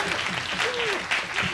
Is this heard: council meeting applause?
yes